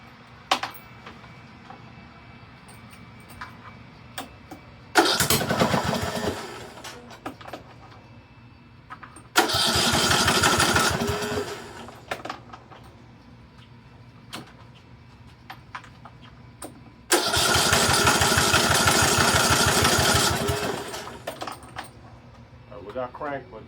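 A Briggs and Stratton engine's starter cranks in three separate bursts after rewiring, each a few seconds long with a rapid rhythmic churning, loud and close, never catching; quiet gaps between.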